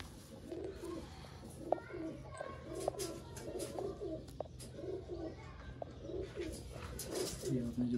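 Sialkoti pigeons coo nearby in soft, repeated bursts, with scattered chirps and light background noise from the loft.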